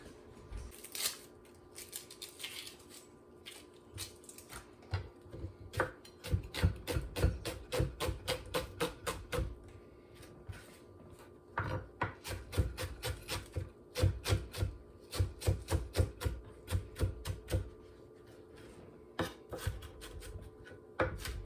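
A knife finely chopping onion on a cutting board, rapid bursts of crisp rhythmic taps close by with brief pauses between the runs of cuts, and no talking.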